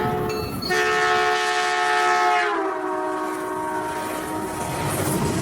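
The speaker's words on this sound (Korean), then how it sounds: "우리 주변에서 가장 쉽게 발견할 수 있는 예시가 기차의 경적 소리입니다." A train horn sounds loud and sustained as the train passes, its steady chord dropping sharply in pitch midway as it moves away, with rumbling rail noise underneath.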